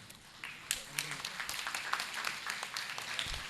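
Scattered clapping from an audience, fairly steady with sharp individual claps, with some voices murmuring underneath.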